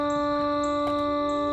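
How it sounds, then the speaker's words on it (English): Steady, sustained klaxon horn tones blare continuously outdoors, a droning siren-like blast with a brief faint knock partway through. "you get these klaxons going off for no reason"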